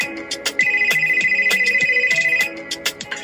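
An outgoing phone call rings with a steady electronic ringback tone over clicking, warbling background sounds, loud and close.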